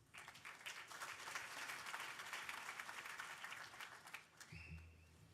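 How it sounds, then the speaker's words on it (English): Audience at a hackathon closing ceremony applauds a team presentation, a dense, steady wash of many hands clapping that swells and holds for several seconds before tapering off, with a brief louder thump near the end. "Please give a massive round of applause for Abstract Wallet."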